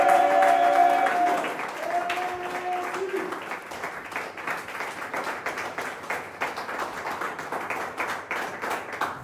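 A church congregation claps and cheers to acclaim Jesus, loud at first and then settling into a dense, steady round of applause from a crowd in a large room, with sustained tones from music early on.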